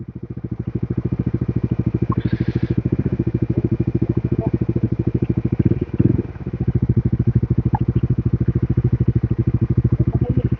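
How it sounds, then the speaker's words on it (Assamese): A motorcycle engine runs steadily up close, hot and with its cooling fan running, its rapid throbbing pulse constant, with a brief change in rhythm midway. "মোৰ পুৰা পাংখা চলি আছে ইঞ্জিন গৰম হৈছে"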